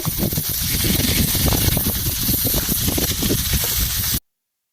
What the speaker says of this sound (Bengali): এঁচড়গুলো একটু ভালো করে ভেজে নেব।